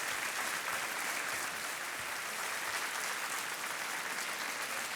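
Studio audience applause on a televised quiz game show, steady dense clapping that carries on evenly and fairly close throughout, with no break or talking over it.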